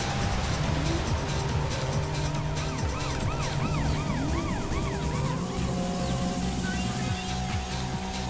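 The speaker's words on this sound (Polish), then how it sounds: "Ten radiowóz mnie tu niepokoi." A police car's wailing siren sweeps up and down repeatedly during a Need for Speed: Porsche Unleashed race, layered over a loud racing engine drone and in-game music.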